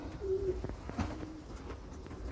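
Racing pigeon cooing softly inside a loft, a few low throaty coos rising briefly over a steady ambient hum.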